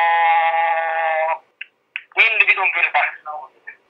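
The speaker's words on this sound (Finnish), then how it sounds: "Kuka siellä nyt soittelee?" Telephone ringing in a steady electronic tone for over a second, then stopping, followed by a voice answering in Finnish.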